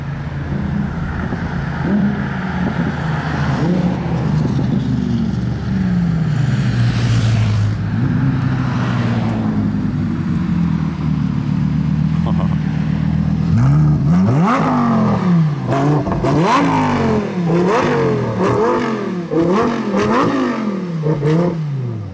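A Lamborghini supercar revs hard from close behind its exhaust pipes, then pulls away with repeated rising and falling throttle blips as it drives off, loud and continuous with no talking.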